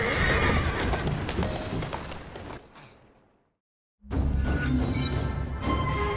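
A horse in the video game Assassin's Creed Syndicate whinnies loudly, then the sound drops to silence before a second loud neigh with hoof clatter returns abruptly.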